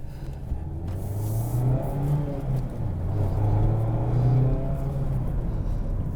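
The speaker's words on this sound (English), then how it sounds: "let's go for a drive with the 2021 Mazda MX-5 Miata" A 2021 Mazda MX-5 Miata RF sports car engine hums steadily and builds as the car accelerates, a continuous smooth drone with rising pitch, heard from inside the car.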